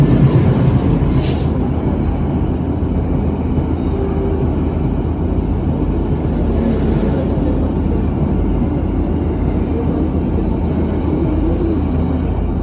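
Wijaya Kusuma passenger train from Ketapang to Cilacap passes at Sidoarjo station after crossing a commuter train, with a loud, steady low rumble and clatter of the carriages rolling by.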